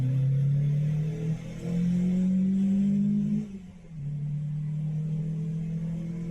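Volkswagen Golf GTI engine under acceleration while driving, a droning tone that climbs, drops briefly as gears change, then settles into a steady pull. The sound is close and inside the car, with no talk.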